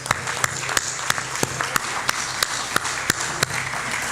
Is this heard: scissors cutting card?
no